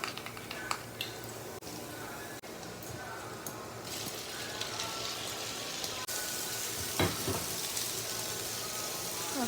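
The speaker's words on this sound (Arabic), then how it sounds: "هنا نحمر البصل بس ما نخليه يذبل مرة" Onions fry in a pan with peanuts, butter and garlic, giving a steady broadband sizzle that runs the whole time, with a few scrapes and clinks on top and no talk.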